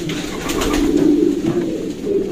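Kittel pigeons cooing inside a loft, with close, soft throaty warbling coos that overlap continuously.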